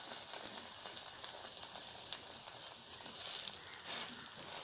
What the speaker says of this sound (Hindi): तो हम थोड़ा सा इस पे और साइड्स में घी ऐड कर लेंगे, और एक साइड से अच्छी तरीके से ये पक जाएगा।